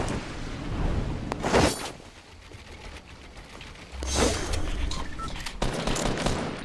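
Bursts of rapid minigun fire in the battle royale video game Fortnite, two loud sustained volleys separated by a quieter gap, with game sounds underneath.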